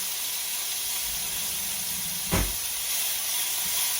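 Pieces of meat sear in olive oil in a pan for a low-carb chili verde, giving a steady broadband hiss with one brief louder burst of sizzle midway.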